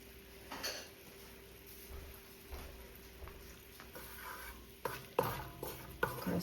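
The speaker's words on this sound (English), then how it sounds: "So I'm gonna stir this a little." A spoon stirs Jamaican cow foot and beans in a cooking pot, with scattered scraping knocks against the pot over a soft, quiet sizzle, the strokes growing sharper toward the end.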